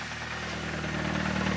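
A turbocharged BMW M43 four-cylinder engine idles nearby, a steady low hum with a faint rhythmic pulse, rising slightly in loudness toward the end.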